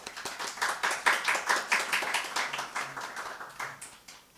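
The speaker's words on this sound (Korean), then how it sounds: "박수 한번 드리겠습니다." A small group claps steadily for a few seconds at a church service, a dense patter of hand claps with no cheering and no voices.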